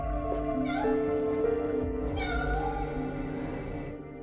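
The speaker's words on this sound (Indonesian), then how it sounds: "Setelah itu ia mendengar suara kucing." Pet cat meowing near a banana garden, a few drawn-out, wavering meows in close succession over a low background hum.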